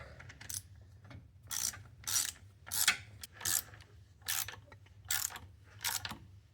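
A hand ratchet tightening 10 mm bolts during a manual transmission swap, heard as about eight short bursts of rapid metallic clicking, evenly spaced and close up, over a low steady hum with no talking.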